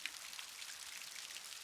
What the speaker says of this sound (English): The rain isn't going anywhere, and neither are we.